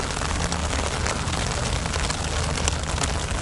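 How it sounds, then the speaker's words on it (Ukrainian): Rain falling by the Dnipro river in Kyiv during a feeder fishing trip, a dense, even patter of drops that stays loud and close for the whole clip with no voices. "Пішов, друзі, дощ."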